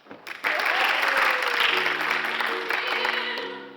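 A theatre audience at a musical comedy applauds a set change, loud sustained clapping that swells and then slowly thins, with music playing underneath.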